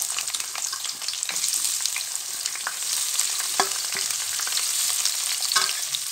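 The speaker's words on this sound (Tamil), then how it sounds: "இந்த மாதிரி வெங்காயம் வந்து நல்லா ப்ரௌன் கலரில் வர மாதிரி நல்லா வதக்கி விட்டுக்கலாம்." Chopped onions for dum biryani sizzle steadily in an oiled pan, with frequent scrapes and clicks of a spoon stirring them, close and moderately quiet, with no voices.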